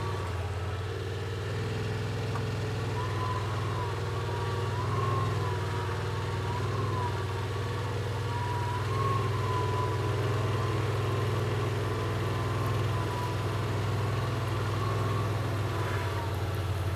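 A 2026 Yamaha Wolverine X2 utility UTV engine idling low and steady while creeping along in low range, a continuous hum with a faint whine above it and no voices.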